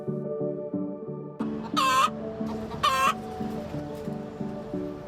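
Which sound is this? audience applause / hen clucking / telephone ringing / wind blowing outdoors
hen clucking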